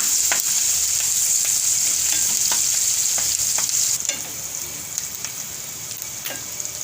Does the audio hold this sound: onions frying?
yes